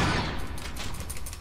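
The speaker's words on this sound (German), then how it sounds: "Da ist er! Und schießt!" Dense burst of gunshots fired at a Hunter creature in the Resident Evil HD Remaster, loud and continuous over a heavy rumble of game noise, with no speech.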